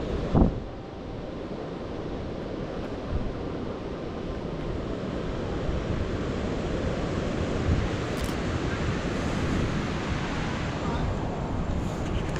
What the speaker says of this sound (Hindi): Check out that waterfall too guys